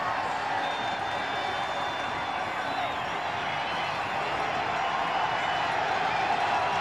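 Large crowd roaring steadily at the finish area of a men's moguls freestyle skiing final, a dense, continuous wash of cheering and clapping that holds level throughout with no pause.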